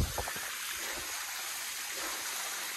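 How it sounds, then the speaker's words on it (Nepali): A small waterfall in a hilly stream area pours steadily, a faint, constant rushing wash of water heard alone after a brief bump at the start. "फाइनली झर्ना चाहिँ यही हो जस्तो लाग्यो मलाई"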